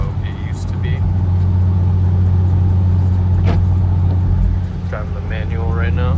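A 2005-2009 Ford Mustang with manual transmission and new wheel bearings cruising along, a steady low engine drone and road rumble from inside the cabin, with someone talking over it.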